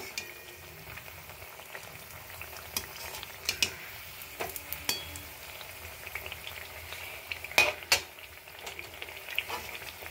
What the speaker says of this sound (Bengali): দেখুন এটাও আমার ভাজা হয়ে গেল।